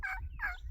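A wild turkey gobbles twice in quick succession on the opening day of turkey season, sounding distant and moderately faint over a low outdoor rumble.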